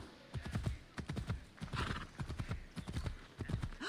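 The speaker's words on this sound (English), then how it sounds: "Okay, I've got a horse, but it's probably like really slow" Horse hooves clip-clop in a steady, brisk rhythm as a horse is ridden in the Assassin's Creed game set in ancient Sparta, with a whinny-like tone mixed in.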